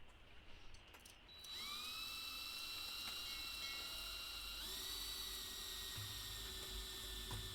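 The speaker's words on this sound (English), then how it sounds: "A 20mm hole with a 20mm grommet will be more than enough to get the two 6mm cables down into the van." A power drill bores a 20mm hole into a van body, a whining, rising tone that sets in after a second and holds steady and close for several seconds.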